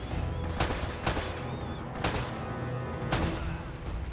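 Video game gunfire from Uncharted rings out as several sharp, loud shots spaced irregularly over a few seconds, with a low rumbling background between them.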